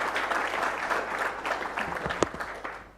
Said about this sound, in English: Ladies and gentlemen, another round of applause for our Principal and Vice Chancellor.